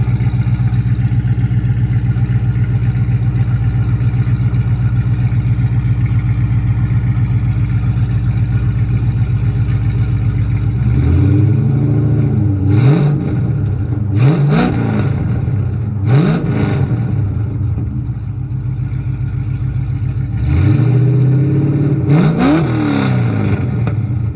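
A Pontiac GTO V8 engine with headers and an X-pipe idles with a deep, loping rumble, then is revved sharply several times, each rev rising and falling back to idle.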